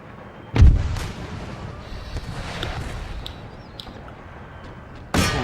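Cannon artillery fires in the Empire Total War video game: a heavy boom opens the clip and rumbles away, then a second blast hits near the end.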